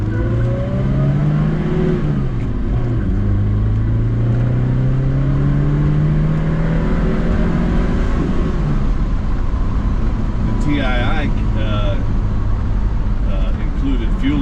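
A 1974 BMW 2002 tii with a fuel-injected 2-liter, 130-horsepower engine accelerates, its engine note climbing steadily and loudly from inside the car while someone talks over it.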